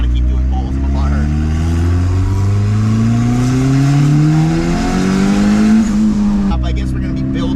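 A turbocharged Honda Civic with a cheap $120 internet turbo accelerates hard through a pull, its engine note climbing steadily and loudly in rising sweeps, with a brief shift dip before winding up again.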